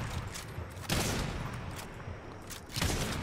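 Gunfire from the Fortnite battle royale game in a duos match, with loud bursts of shots near 1 s and again near 2.8 s over a steady layer of game noise and smaller pops.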